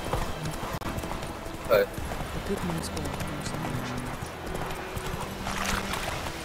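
Horse hooves clop steadily in a Witcher video game, a rhythmic trot at moderate loudness heard beneath a voice talking.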